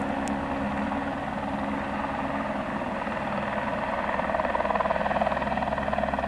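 A helicopter thrums steadily overhead in Norway near Trolltunga, a continuous rotor and engine drone that grows a little louder toward the end, with no talking.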